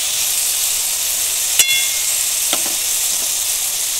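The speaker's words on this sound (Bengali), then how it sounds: "এবার ভালো করে মশলার সঙ্গে সবজিটা খুব ভালো করে আগে কষিয়ে নেব।" Vegetables, an ash gourd dish for a village recipe, frying with chilli powder and ground cumin in a pan, giving a steady broadband sizzle throughout with a couple of brief stirring clinks near the middle.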